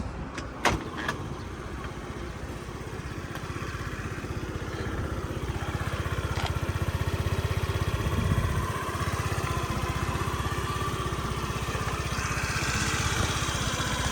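A Honda Dio AF-68 fuel-injected scooter engine idles steadily and evenly, a continuous low rumble running throughout with a few faint clicks near the start.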